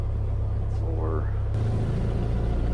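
Light aircraft engine with a Garmin 530/430 panel upgrade, revving toward full throttle on the takeoff roll at dusk: a steady, loud low drone fills the cabin, rising pitch briefly audible, with a voice talking over it.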